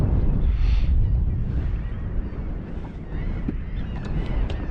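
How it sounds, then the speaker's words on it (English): Strong wind buffets the microphone aboard a small fishing boat out on the water, a steady low roar that swells and eases across the whole stretch, with no voice heard. "This wind is going to be interesting."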